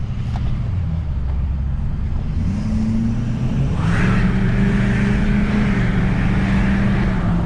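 A pickup truck engine accelerates hard as the truck pulls away, a loud, close, rising drone that climbs in pitch and then shifts partway through as the gear changes.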